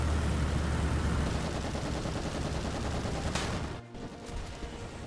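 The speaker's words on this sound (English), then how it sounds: "Main gun hit on the right wing blew most of the wing completely off that F-84" A T-62 tank's main gun strikes an F-84 jet's wing in War Thunder, in a loud, dense wash of gunfire and blast noise that holds steady, then briefly drops out before resuming.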